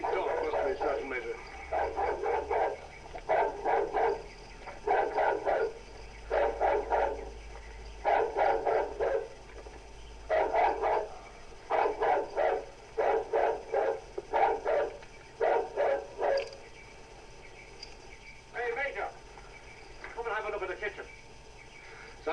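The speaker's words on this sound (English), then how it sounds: "We must have a barking dog" Dog barking repeatedly in steady rhythmic bursts near a barn, mid-distance and moderately loud, continuing for a long stretch with brief pauses and a few yips toward the end.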